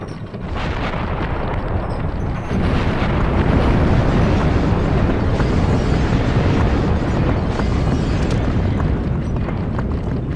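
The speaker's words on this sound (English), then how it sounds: "it will bring it down and then crush that, causing an explosion" Loud, sustained rumbling blast from crushing an object in the Legacy of Kain: Blood Omen 2 video game, a dense roar that holds steady for about ten seconds with no talk.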